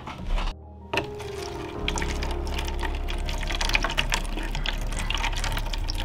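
Water runs from a tap into a container for seed growing in a suburban garden, starting after a brief pause and then flowing as a steady, fairly quiet stream with no talking.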